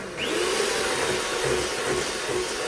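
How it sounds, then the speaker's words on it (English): An electric hand mixer beats eggs for a coconut sponge cake, a steady loud motor whine running continuously from just after the start, with no talking. "And then use my hand mixer."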